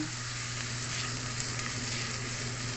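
Onions sizzle and fry in a pan, a steady close-up crackle that holds evenly throughout with no voices.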